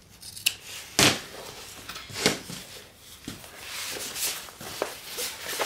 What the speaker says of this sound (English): get your 4 corners trimmed